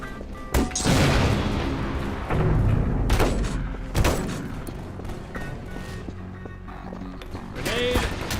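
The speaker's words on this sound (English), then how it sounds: "Grenade." A grenade goes off in a shooter game with a heavy boom among crashes and gunfire, with several loud impacts coming in quick succession while a player talks.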